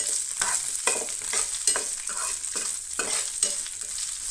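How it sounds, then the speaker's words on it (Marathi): Chillies being stir-fried in a pan while making dal, with repeated scraping stirs over a steady close sizzle, no voices. "हांगसर हांव मिरसांगो घालतलें आनी ते बी बरेंशें मातशें परतून घेतलें."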